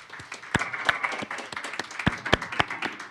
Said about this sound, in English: I hope he hears that round of applause